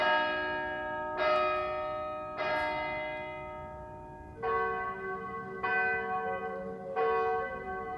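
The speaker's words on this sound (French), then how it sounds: "J'ai l'impression dès que je commence une phrase, il y a une cloche qui sonne." A church bell in Corsica rings out in six slow, evenly spaced strikes, each one clear and ringing with a long decaying tail.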